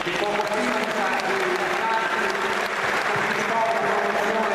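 A crowd at a basketball awards gala applauds in memory of a late uncle, a steady, sustained round of clapping throughout, with a low tonal hum beneath it.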